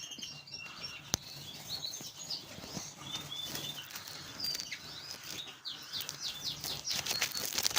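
Cock and hen chaffinches calling and chirping indoors, short bright notes repeated at moderate volume, with faint fluttering and small knocks in the background.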